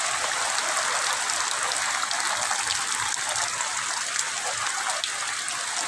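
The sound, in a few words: heavy rain falling in Satkhira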